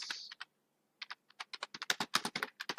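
Bursts of fast key clicks on a computer keyboard, close and fairly quiet, starting with a few taps, then a pause, then a denser run of typing.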